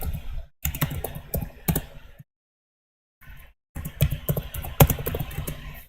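Typing on a computer keyboard, with quick bursts of close, clicky keystrokes, a pause of near silence, then another run of typing.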